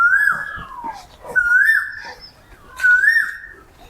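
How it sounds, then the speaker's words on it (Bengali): An Asian koel calls three times from the banyan trees of a Narayanganj village, each call a clear rising whistled phrase, loud and fairly close, with short pauses between calls. "কোকিল ডাকছে"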